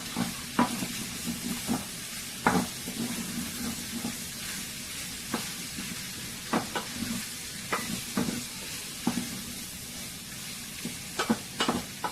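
Food sizzles steadily in a pan over a home cooking fire, with a continuous frying hiss punctuated by scattered sharp pops and clinks of stirring; no one speaks.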